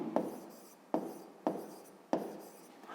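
Pen strokes on paper while a math solution is written down, four quiet scratchy bursts each starting with a soft tap and fading, spaced at an uneven rhythm in a hushed room.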